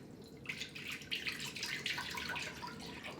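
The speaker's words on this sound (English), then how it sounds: "I'm going to pour half into this pot here." Milk poured from a gallon jug into a pot for homemade yogurt, a faint, steady splashing pour lasting a few seconds.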